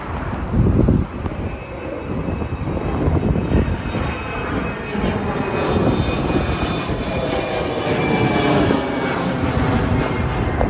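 A fixed-wing airplane passes overhead in Canada, its engine roar building into a broad, steady rumble that persists for around eleven seconds with no talk over it.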